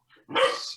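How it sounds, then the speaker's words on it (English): A single dog gives one short, close bark preceded by a faint yip, loud and alone in a quiet room. "so that's my dog"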